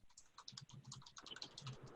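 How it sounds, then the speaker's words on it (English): A computer keyboard clicking under steady typing, dense irregular bursts of light key taps, faint and distant as if picked up through another person's microphone on a call. "It's funny, I can hear her key clicking."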